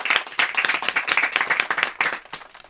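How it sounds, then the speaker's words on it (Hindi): Audience clapping in a dense, lively burst at a show, loud and steady throughout with no talk over it. "जोरदार तालियां कैफी साहब की स्मृति में।"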